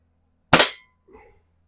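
An Airforce International Indian target air pistol fires a single Daisy wadcutter pellet at a can. There is one sharp, close crack, then a faint metallic tick from the can a moment later.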